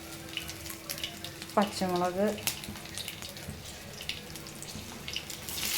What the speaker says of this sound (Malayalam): സോ കടുക് പൊട്ടി വരുന്നുണ്ട്.